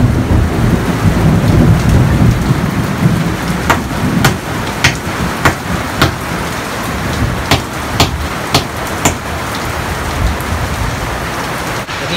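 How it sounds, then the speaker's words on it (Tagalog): Heavy rain pours steadily and loudly, with sharp claps of nearby thunder and drops striking a surface at irregular intervals throughout. "Nasa ulan."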